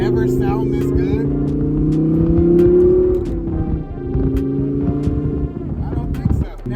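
A Lamborghini Gallardo Spyder engine revs in sustained rising and falling pulls, loud and close, with steady engine tones dominating throughout and a brief drop before the revs climb again.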